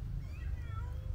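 A cat meows a few times, soft and wavering, over a steady low rumble of background noise.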